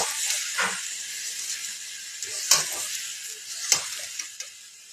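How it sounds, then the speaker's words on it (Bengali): Semolina stirred into lightly fried vegetables and curry leaves in a hot pan, giving a steady soft sizzle broken by three or four sharp spoon scrapes against the pan. "সুজিটা দিয়ে ভালো করে একটু নাড়াচাড়া করে নেব"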